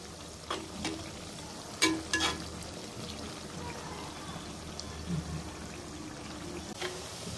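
Chicken pieces fry in oil for a pickle, a low continuous sizzle with a few clinks and stirring taps from a spoon against the pan.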